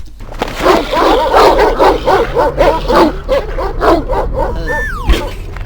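Several dogs bark and yip in a rapid, overlapping chorus, loud and close, with a brief whine near the end.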